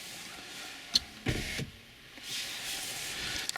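Power windows on a Mazda CX-3 run with the ignition on, faint motor whines rising in a few short stretches after a click, quiet and close inside the car with no voices.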